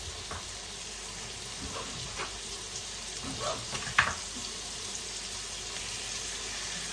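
Food hisses softly as it is laid into a frying pan in a home kitchen, a low steady sizzle with a few brief clinks and handling knocks near the middle.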